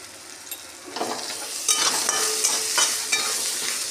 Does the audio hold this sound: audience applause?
no